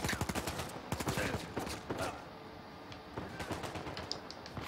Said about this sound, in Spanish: ¿Quién me dispara por detrás?